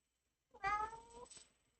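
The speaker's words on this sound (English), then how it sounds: "She is sitting there meowing at me." A cat named Mayhem gives one drawn-out, slightly complaining meow close by, starting loud and tailing off in a quiet room with no voices.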